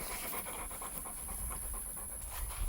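Puppies panting close by with a quick, steady rhythm of breathy huffs, faint and continuous with no voices over it.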